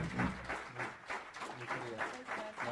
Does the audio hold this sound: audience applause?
yes